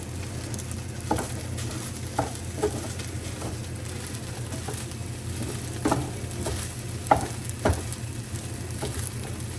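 Fried rice with meat stir-frying in a pan at home, a steady close sizzle with scattered louder scrapes and taps of a utensil against the pan, no voices.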